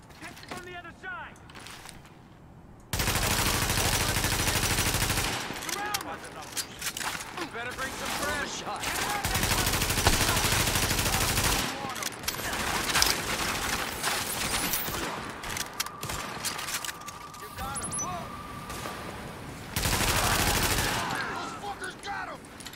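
Gunfire in the video game The Division: dense bursts of automatic rifle fire and sustained fusillades in long stretches, with mechanical clicks and creaks between volleys, loud and close, with a voice speaking between the shooting.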